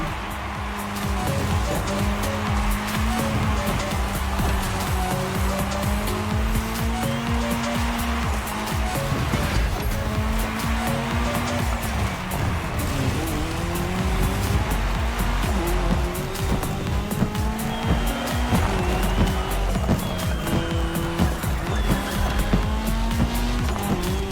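Race cars roaring around a tarmac track in the racing game The Crew Motorfest, engines droning and shifting pitch continuously with tire squeal, loud and sustained throughout.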